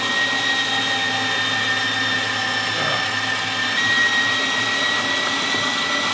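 An electric meat grinder churns a McDonald's Big Mac and nuggets into sausage filling, a loud, steady motor whir with a constant hum and faint grinding texture, no voices.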